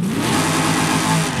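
A Hummer H1 Alpha with a 6.1L V8 engine gives a loud, steady engine roar that swells slightly as it revs, close and continuous, with no voices.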